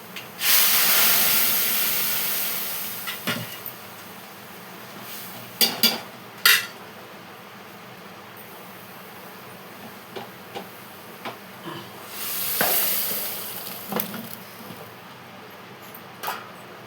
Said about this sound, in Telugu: పప్పు తాలింపు వేస్తున్నాను